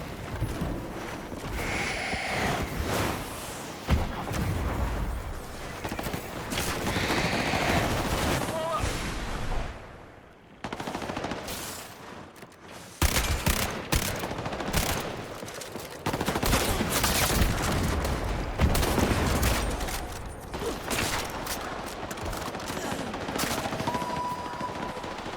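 Sustained automatic gunfire and bursts of shooting in the video game Highguard, loud and dense with a short lull midway, mixed with game callouts and explosions.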